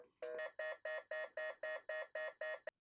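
A phone line beeps steadily while dialing into a modem, a run of about ten evenly spaced electronic tones, faint and alone.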